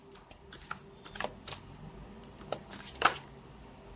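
A few quick, crisp riffling bursts of cards being shuffled, with scattered soft clicks and handling noises in a quiet room.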